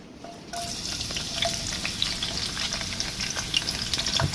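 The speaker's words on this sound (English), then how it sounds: "So I'll start by adding my onion" Chopped onion drops into hot oil in a pan for egg sauce, setting off a sudden, steady crackling sizzle that carries on close and fairly loud, with faint stirring, no talking.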